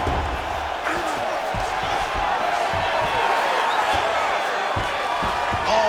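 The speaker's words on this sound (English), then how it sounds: "big pop from the crowd as they get back to their feet" A crowd cheers and roars in an arena during an EA Sports UFC 5 bout between Roberto Satoshi Souza and Mikuru Asakura, a steady swell of noise under a commentator's voice, with occasional thuds.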